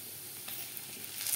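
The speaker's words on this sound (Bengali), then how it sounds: "গাজর প্রায় ভাজা হয়ে এসছে" Carrots fry in a pan for a dalia khichuri, giving a steady, close sizzle with a slight swell toward the end and no voices.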